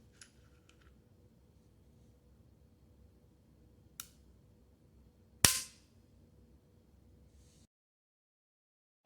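A Ruger LCP Max pistol dry-fires once: a single sharp, toy-like click stands out clearly against a low background hum, with a fainter click a moment earlier.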